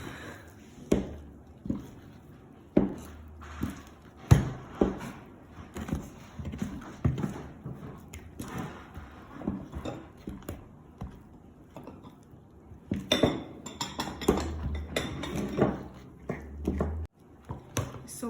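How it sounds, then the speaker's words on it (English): Wooden spatula stirring thick banana bread batter in a bowl, giving soft repeated scrapes and knocks in an uneven rhythm, close and fairly quiet, with no talking. "I'm gonna use wooden spatula to mix all of these ingredients"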